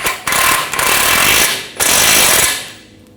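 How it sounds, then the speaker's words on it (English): A power tool, likely an impact wrench on a 21mm socket, tightens a lower control-arm nut on a 2007-2013 BMW X5 in two loud, close bursts, each about a second long, before falling quiet. "using a 21mm socket, we're going to tighten this nut down"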